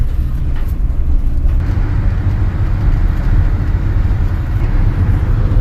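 A truck driving past close by on the left, its steady low road rumble and engine drone filling the whole stretch at a constant loud level with no voices.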